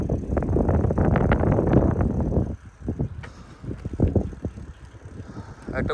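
Strong wind at a high hilltop spot buffets the microphone in heavy roaring gusts, loud for the first couple of seconds and then easing into intermittent, uneven blasts.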